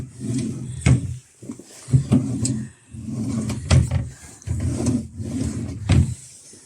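Wooden wardrobe drawers in a hotel room slide open and shut several times in succession, each with a rumbling scrape and a knock, close by.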